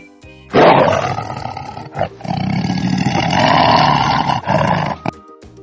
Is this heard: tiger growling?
yes